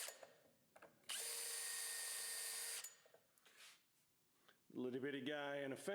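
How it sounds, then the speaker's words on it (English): A power drill with a Vix bit bores holes in wood clamped under a small guide block, giving one steady, loud whine of about two seconds and a brief softer burst, after which a person talks. "I use a Vicks bit and a little block clamped in place to make sure I get the holes drilled just right."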